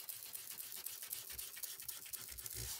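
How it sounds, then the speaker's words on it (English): A journal cover's finish is sanded by hand with quiet, rapid scratchy strokes in a steady back-and-forth rhythm, close and faint. "Okay, we will sand."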